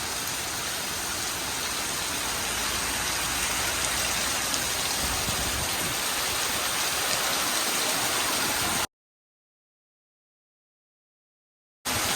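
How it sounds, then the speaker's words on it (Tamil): Heavy rain pours steadily in Adirampattinam, a dense constant hiss of drops on surfaces with no distinct thunder crack, filling most of the span before dropping to silence near the end. "கடும் பயங்கரமான இடி சத்தத்துடன் கூடிய மழை"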